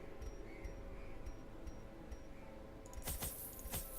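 Brief metallic jingle of keys near the end, after a stretch of quiet background, as three keys are bought in the Darkest Dungeon video game's provisioning shop.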